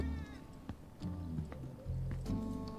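Cats meowing in the Final Fantasy 7 Remake video game, in a back-alley area near trash and a back door: a few short, clear meows over steady game ambience and music.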